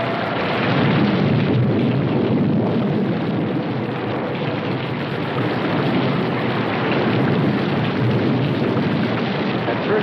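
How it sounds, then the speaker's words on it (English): Heavy rain pours down in a dense, constant roar, with a deep rumbling undertone and no voices. "it seemed heavier than any rain we'd ever seen"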